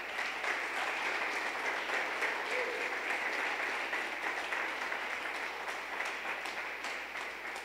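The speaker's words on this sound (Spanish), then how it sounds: "Dale un aplauso al Padre." Steady, dense applause from a church men's assembly audience, continuous and fairly loud throughout with no break, fading only slightly at the end.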